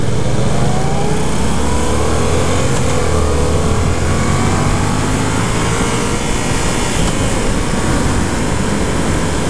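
Ride on a 2015 Yamaha FZ-07 700cc motorcycle, with loud steady engine drone and heavy wind roar throughout, the engine pitch rising and falling slightly.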